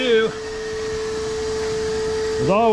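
Loud shop sweeper droning steadily at a constant pitch through a garage used for a 1972 Dodge Challenger restoration, with a voice speaking briefly at the start and again at the end.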